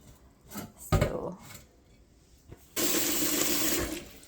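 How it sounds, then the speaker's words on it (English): Water poured with dal into an Instant Pot: a few clattering knocks of lentils against the pot, then a steady, fairly loud gush of running water lasting over a second. "Now I'm gonna add my dal and some water into my instant pot"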